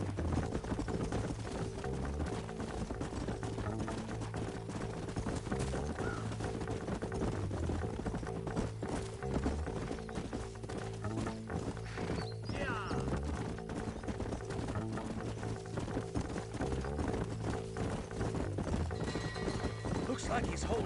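Horse hooves clip-clop steadily in Red Dead Redemption, a continuous trotting rhythm layered with occasional whinnies and game music, with voices speaking over the hoofbeats throughout.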